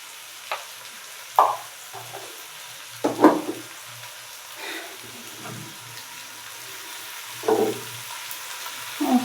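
Taro stolons (loti) frying in a small wok, with a low steady sizzle broken by a few louder scraping, clattering stirs spread across the clip.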